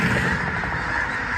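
A dense flock of migrating geese honking, loud and close, a continuous overlapping clamour of many birds with no pauses.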